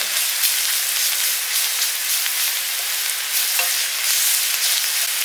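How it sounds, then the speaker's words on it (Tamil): Ginger garlic paste sautéing in hot oil for vada curry after onions have softened: a steady, loud, close sizzle and hiss with light stirring, no talking. "இப்போ நம்ம ஒரு இஞ்சி பூண்டு பேஸ்ட்டு போட்டுக்கலாம். அதே நல்லா எண்ணெயிலே வதக்குங்க."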